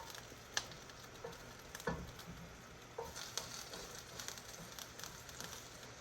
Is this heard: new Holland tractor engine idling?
no